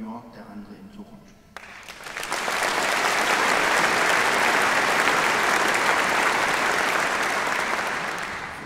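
Concert audience breaks into loud, sustained applause for the soloists at a Holocaust remembrance concert in Hannover, starting after a brief stretch of quieter sound and swelling into a dense, even roar of clapping that holds steady.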